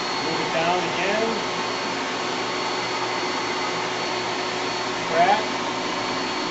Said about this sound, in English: I like to use the seamer down, the vacuum cooling tool.